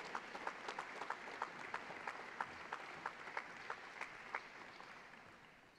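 A Hall of Fame induction ceremony audience applauds faintly. A smaller, distant round of clapping with distinct individual claps pops out in a loose rhythm, then tapers off over several seconds.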